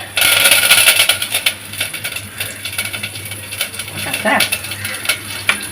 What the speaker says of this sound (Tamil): கடுகு பொரியறது